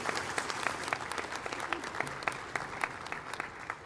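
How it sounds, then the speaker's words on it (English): A church congregation applauds during a Sunday morning service, a steady wash of many hands clapping with crisp individual claps standing out, moderately near and sustained throughout. "Would you give them a round of applause as they're seated this morning?"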